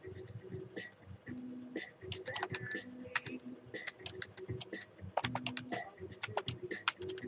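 Steady typing on a computer keyboard while filling in a course plan entry, with irregular bursts of close key clicks and occasional heavier thumps, no talking.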